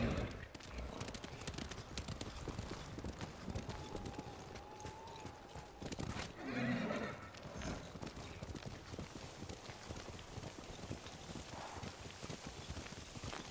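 A horse gallops steadily in the video game Ghost of Tsushima, its hooves clip-clopping in a quick, even rhythm under faint wind and ambient sound in a snowy setting.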